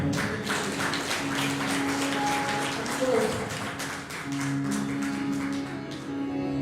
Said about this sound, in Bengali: একবার শিল্পীদের জন্য হাততালি